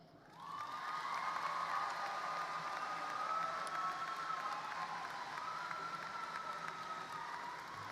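Audience at a high school graduation ceremony breaking into sustained applause and cheering, a steady loud wash of clapping with whoops and shouts, holding evenly for several seconds.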